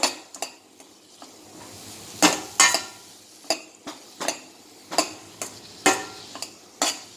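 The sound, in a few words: sautéing vegetables in a pan for ragi soup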